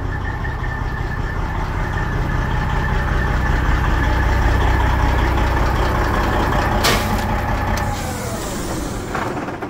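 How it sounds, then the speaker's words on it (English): Heavy truck engine idling steadily at night in Burlington, Wisconsin, a loud continuous diesel rumble close by, with a brief air hiss near the end as it begins to wind down. "So let's go shut the truck off."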